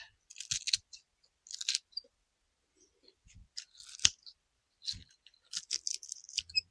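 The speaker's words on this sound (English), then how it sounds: "It's a very woody root. You can hear when I'm cutting that." Blades snipping through tough, woody plant roots in a greenhouse, a series of short crisp crunching cuts in separate bursts with quiet gaps between them, close and fairly loud, with no talking.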